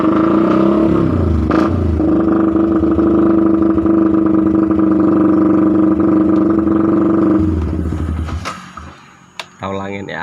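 A Yamaha Vixion motorcycle fitted with a rumble exhaust idles loudly with a steady, throbbing drone. The engine cuts off near the end, and brief clatter and a voice follow.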